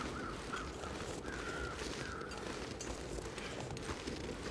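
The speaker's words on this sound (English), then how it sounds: "Those are the crows from the body down there." Crows caw faintly and far off in The Long Dark, a few drawn-out calls over a steady wash of wind-like outdoor ambience.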